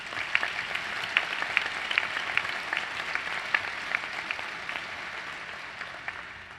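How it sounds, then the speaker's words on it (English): Warm applause from the audience at a medical school commencement ceremony, a sustained wash of many hands clapping with some distinct individual claps, slowly fading toward the end. "Please join me in a warm round of applause for these individuals."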